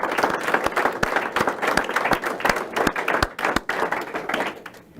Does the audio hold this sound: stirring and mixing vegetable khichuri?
no